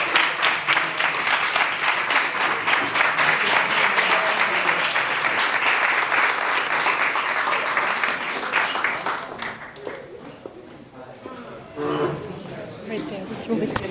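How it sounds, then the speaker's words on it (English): Audience applause at a 2003 panel discussion at New York University, steady dense clapping filling most of the stretch before thinning out into scattered claps and murmuring voices near the end. "another round of applause for..."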